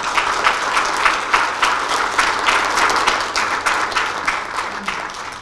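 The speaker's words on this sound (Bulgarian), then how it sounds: "Аплодисменти още веднъж." An audience at an awards ceremony honoring ambassadors of kindness in 2020 breaks into applause. It is sustained, lively clapping with many distinct hand claps standing out throughout.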